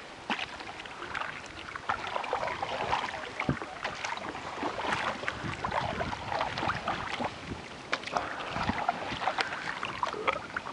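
Canoe paddled across a lake on an Elk Island trip, with steady water swishes and splashes from the strokes over continuous wind noise, moderately close and fairly busy throughout.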